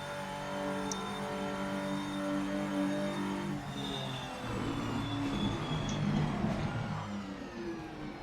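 A race car engine drones and revs on a wet track in the Project Motor Racing video game, a sustained harmonic whine rising and falling through gear changes, steady and fairly close, with no talk.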